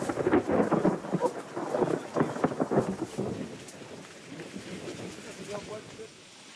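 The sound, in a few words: thunderstorm with rain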